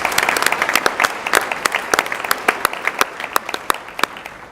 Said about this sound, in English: So a round of applause for David so he can hear it at home.